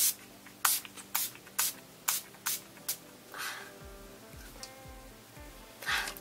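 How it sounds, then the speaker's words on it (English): Urban Decay All Nighter makeup setting spray misted in a series of about eight quick, close pumps, with softer handling sounds and a couple of final sprays toward the end. "now we are just going to set the face with the Urban Decay All Nighter Makeup Spray"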